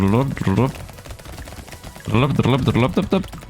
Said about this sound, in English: As long as I see my gun permanently shooting